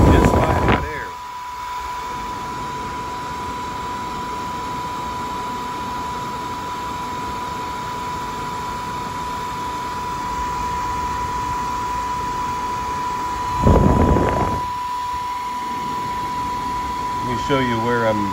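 Hot air blows steadily onto the cold start airbox flap of an Audi 2.0T engine, a constant rushing hiss with a steady tone running underneath and brief louder gusts near the start and middle.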